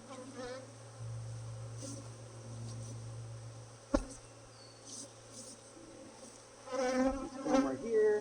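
Steady low buzzing of many honeybees from an angry colony hums throughout, with a sharp tap midway and the swarm growing louder near the end.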